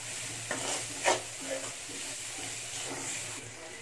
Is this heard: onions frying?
yes